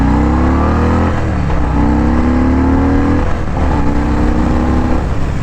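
A Harley-Davidson Fat Boy motorcycle accelerating hard on a ride, its loud, close engine note climbing steadily in pitch, dropping with a gear change and rising again, with no voices.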